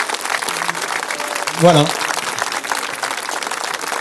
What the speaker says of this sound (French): On va applaudir Dorian de Marc, le facteur de géant.